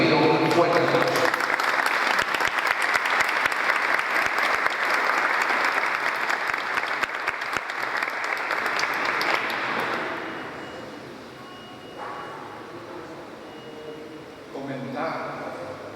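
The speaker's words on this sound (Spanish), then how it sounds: "Don Mario Díaz Oliveros, para que pido un fuerte aplauso." Audience applause welcoming a speaker at a talk on the history of the Jesús de Candelaria image, loud, dense clapping sustained for about ten seconds, then fading to quieter scattered claps.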